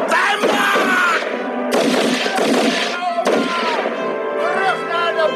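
Battle gunfire in a historical Indonesian war film, dense loud bursts of shots and blasts filling the whole stretch, heavy and continuous over a busy soundtrack with crowd noise and shouting.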